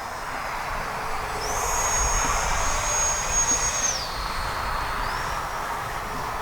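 A small BAE Hawk radio-controlled model jet with a 50mm electric ducted fan flies past, its high whine rising as it sweeps by and then fading, over steady outdoor background noise.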